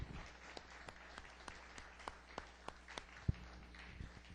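A church congregation claps in praise, sparse and fairly faint, individual claps landing in a loose, roughly regular rhythm over a low hum, with one louder thump near the end.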